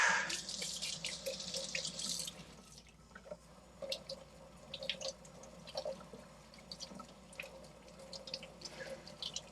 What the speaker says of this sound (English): Go ahead and wash the scallion real quick.